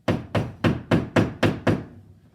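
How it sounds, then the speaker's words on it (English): A hammer pounds a drywall toggle anchor flat against a wall while a Samsung R650 soundbar is being mounted, giving six evenly spaced, sharp close knocks in quick succession, each with a short dull ring. "I'm going to use my hammer. I'm going to pound it a little bit."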